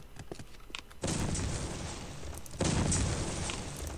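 Two heavy explosion blasts in the video game Postal 2: Apocalypse Weekend, each a sudden loud burst of broad rumbling noise that lingers before the next hits.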